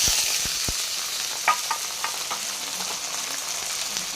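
Taro stolons and onion frying in a pan for a prawn-paste taro stolon dish, a steady close hiss of oil with scattered crackles and a few soft knocks of stirring, no talk.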